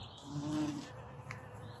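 A faint, low buzz of a red-tailed bumblebee, Bombus lapidarius, feeding on white dead nettle, hums briefly near the start, then fades into quiet outdoor background.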